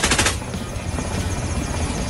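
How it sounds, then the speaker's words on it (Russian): A helicopter fires automatic weapons at a small Ukrainian naval kamikaze drone at sea: a dense, rapid rattle of gunfire that continues unbroken through the short burst, heard fairly close. "Это вертолет захватчиков упорно пытается потопить еще один украинский беспилотник «Камикадзе»"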